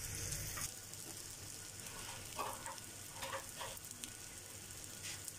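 Egg shami patties frying in oil with extra oil added after flipping, a soft continuous sizzle with faint spatula touches, fairly quiet and steady throughout with no talking.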